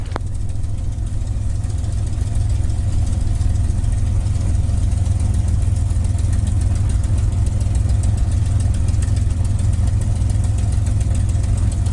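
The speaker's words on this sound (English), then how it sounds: "Now, we've got a warm engine, so it's not going to take long to do a run up here." A warm P-51 Mustang piston engine idles steadily before run-up, a loud, constant low rumble with a slightly knocking texture that holds unbroken throughout, with no talk over it.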